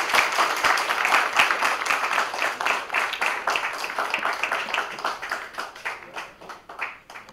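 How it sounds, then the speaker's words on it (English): Audience applause at a rabbinical seminary's tenth Chag HaSimcha celebration, many hands clapping in a brisk, dense rhythm that gradually thins and fades toward the end. "He deserves a very big round of applause."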